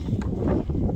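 Gusty outdoor wind buffets the microphone in a steady low rumble for about a second, loud and continuous, with no talking.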